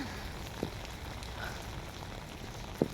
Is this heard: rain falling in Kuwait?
yes